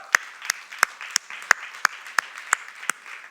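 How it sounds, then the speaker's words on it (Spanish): Slow, rhythmic unison clapping in a church worship service on the day after Christmas, about nine sharp evenly spaced claps over a soft murmur of voices and room tone. "Dale un aplauso al Señor."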